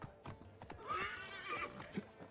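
A horse in Assassin's Creed Odyssey gives a clear, close whinny while hooves clop under it in a quick trot, all within a couple of seconds.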